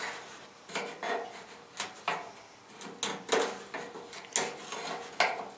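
Flaking paint being scraped from a tailgate down to bare metal, giving a series of short rasping scrapes in an uneven rhythm, close and fairly quiet with no talking.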